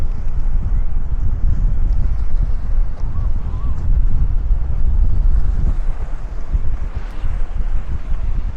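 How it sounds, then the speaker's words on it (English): Blustery wind from a severe thunderstorm in Bensonhurst, Brooklyn roars and buffets the microphone outdoors, rising and falling in strong low rumbling gusts, with faint water sounds in the background. "wind is starting to pick up. There you go, some gusts right now."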